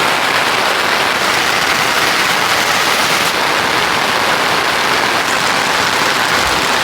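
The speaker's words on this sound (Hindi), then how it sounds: "बारिश इतनी तेज हो रही है" Heavy rain pouring down on a hillside village path in the mountains, a loud, dense, unbroken hiss of falling water that fills the whole scene, no talking.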